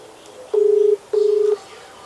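Two steady phone keypad tones sound close and loud, each held about half a second with a short gap between, over faint background hiss in a village setting.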